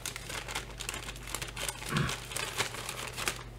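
Scissors cut open a soft mail package containing a horse-themed sweater, a close, continuous crinkling and snipping of plastic wrap with a few sharper crunches, heard alone without talk.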